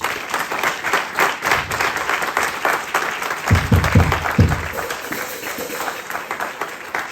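A church congregation applauds to acclaim God during a French-language service, with sustained, dense clapping that swells and ebbs and a few heavier thumps midway.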